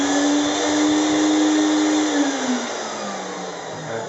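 A Jet Vac Ultima steam vacuum cleaner runs loudly and steadily at close range, a constant motor whine and rushing airflow whose pitch sags slightly as it settles.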